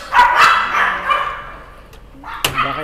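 Dogs at a pet-raising operation bark in loud, rapid bursts early on, fading into softer yips, with one more sharp bark near the end.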